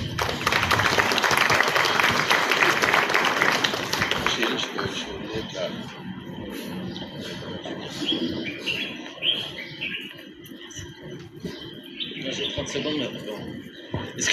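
Audience applause welcoming an artist at a round-table event, loud clapping for the first few seconds that quickly fades, followed by quieter room noise and scattered sounds.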